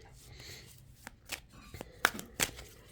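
Tarot cards shuffled and slapped down from a deck, a few sharp flicks and soft rustles with quiet pauses between them, close by.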